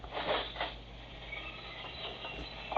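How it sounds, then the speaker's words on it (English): Parakeets in a pet shop full of birds give scattered, faint chirps over a steady low hum, with a few brighter calls near the start and end. "the whole place is full of birds. Look at all the parakeets over here, McGee, the big cage."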